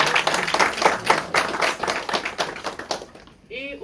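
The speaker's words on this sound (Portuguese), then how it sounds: "Uma salva de palmas, por favor" Audience claps for guests at a talk on African architecture, a brisk round of individual hand claps that fades out near the end before a voice begins.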